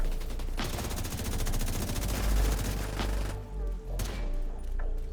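Gunfire in the video game The Division 2 rattles in rapid sustained automatic bursts, loud and close, with heavy low thuds and a brief pause before it resumes.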